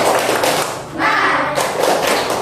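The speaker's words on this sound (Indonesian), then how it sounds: "Yuk, 1, 2, 3, tepuk semangat." A classroom of students doing a rhythmic spirit clap, loud close thumping claps in quick groups, with voices chanting along.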